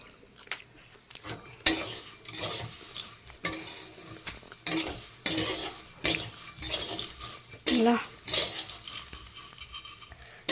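Food roasting in a pan until crisp gives a steady low sizzle, broken by repeated scraping stir strokes of a spatula against the metal, close and fairly loud, with no voices.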